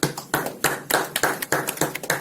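Sharp rhythmic claps from an audience at an accountants' meeting repeat steadily, about four per second, close and fairly loud, with no voices.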